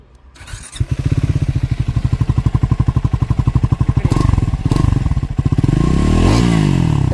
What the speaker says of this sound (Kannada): got very good exhaust notes, so let's ride it.